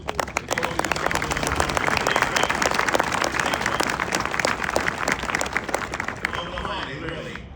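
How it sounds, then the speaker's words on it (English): A large audience at a Marine Corps recruit graduation ceremony gives loud, sustained applause for family members, a dense wash of clapping that fades slightly at the end, with some voices mixed in. "Ladies and gentlemen, please a round of applause to the family members."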